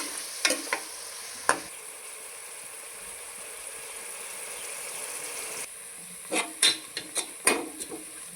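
Onions and green chilies sizzle steadily in hot oil in a pan while goat head curry is being made, a constant frying hiss broken by a few sharp scrapes and clanks of a spoon stirring, heard without talk.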